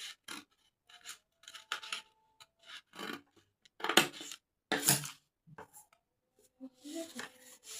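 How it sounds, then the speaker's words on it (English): Scissors snipping through a drafted paper dress pattern for a one-side off-shoulder dress, a series of short crisp cuts and rustles in bursts with pauses between them. "Then I'm going to quickly cut it out to show you the outcome."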